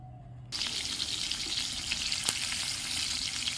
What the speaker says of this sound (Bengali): দেখো মাছগুলো ভাজছি আমি